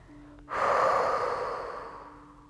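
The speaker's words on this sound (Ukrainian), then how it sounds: "Робимо глибокий, глибокий вдих через ніс. І видих через рот." A single deep breath during a gentle yoga session, a soft audible inhale through the nose followed by a long fading exhale through the mouth, close and quiet with no talking.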